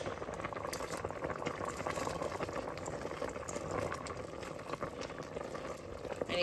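Rice noodles are stirred into a pot of water at a full boil, producing a steady, dense bubbling roil with faint liquid sloshes over its whole length and no speech.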